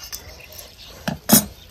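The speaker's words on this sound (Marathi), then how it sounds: "आता ही ताट आपण असंच खाली ठेवायचं." A metal plate is set down on the floor of a village-style kitchen while cucumber bhaji is being cooked. There are two brief, close metallic clanks, the second louder, over a quiet room.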